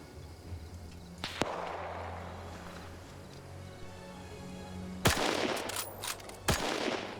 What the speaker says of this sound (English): the British forces over here are unfortunately shooting at each other